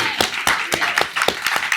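A small audience at a theater talkback after the musical Title of Show claps in a steady, even rhythm. The claps are crisp and close, with brief voices murmuring underneath.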